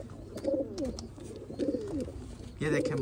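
A male pigeon of a show pair coos in repeated rolling phrases, close and fairly clear, while someone talks over and between the calls.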